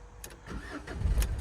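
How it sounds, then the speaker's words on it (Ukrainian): A Renault Kangoo 1.5 dCi diesel with a manual gearbox and about 224,000 km cranks briefly and catches at once, then settles into a low, close engine rumble. "Заводиться автомобіль з півоберту."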